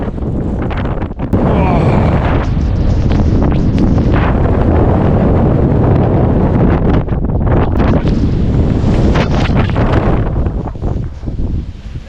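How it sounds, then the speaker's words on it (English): A cold northeast wind blows hard during a snowstorm at a bivouac, a loud continuous roar buffeting the microphone with gusty surges and only brief lulls. "And the wind started blowing from the northeast, so it's really cold again."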